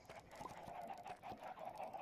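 Faint, repeated clucking from a flock of about a hundred egg-laying chickens on a Minecraft modpack farm, soft and continuous under a low steady background hum.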